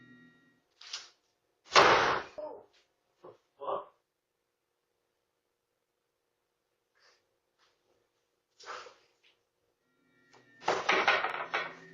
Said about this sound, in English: One of the doors is aggressively yanked shut